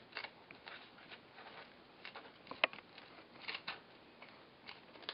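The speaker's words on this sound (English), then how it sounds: "I'm going to use these scissors that won't cut me, bandage kind of scissors." Quiet, close snipping of bandage scissors cutting through material, a series of irregular soft clicks and crunches.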